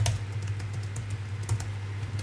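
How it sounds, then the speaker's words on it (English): Fingers type on the membrane keyboard of an Illegear Raven laptop, a quick, uneven run of soft, muted clicks close to the microphone over a low electrical hum. "so this is the membrane keyboard, not the mechanical"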